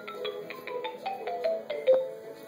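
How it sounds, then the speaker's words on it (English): A phone in the Strawberry Shortcake Bakeshop video game rings with a soft, repeating electronic chime: short melodic tones sound in a steady pattern over a quiet background. "It's the phone."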